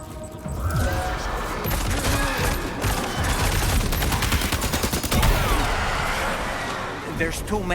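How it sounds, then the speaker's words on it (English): Rapid assault rifle fire in the Death Stranding 2 video game, dense repeated bursts of close, loud shots running almost continuously amid crashes and impacts, with voices speaking over the gunfire. "Okay, let's go swap to this assault rifle here."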